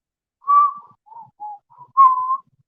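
A person whistles a short tune while working, several clear, close notes in a halting rhythm with pauses between phrases, alone in a quiet room.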